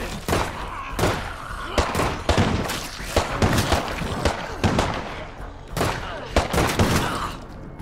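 Heavy gunfire crackles from all directions in the State of Decay 2 video game, with dense overlapping bursts and sharp single shots continuing throughout at close and mid range.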